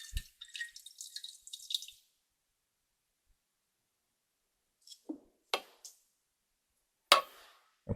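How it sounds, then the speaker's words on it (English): Liquid bromine drips from a separatory funnel into a smaller one: a run of faint, crisp drip sounds early on, then a few louder, separate drops with quiet gaps between them, with no talk. "The lower, almost black bromine layer was then drained directly into a smaller separatory funnel."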